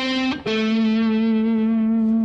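Electric blues guitar lick: a quick palm-muted rake across the strings snaps into a bright, sustained bent note with vibrato, played alone, close and loud through an amp with some effects.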